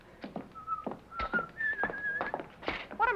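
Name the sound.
whistling backstage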